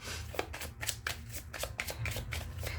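A Cigano (Lenormand) deck of cards being shuffled up close, a quick series of crisp riffling flutters in a steady rhythm, with no talk over it.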